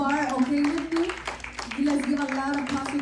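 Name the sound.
congregation applause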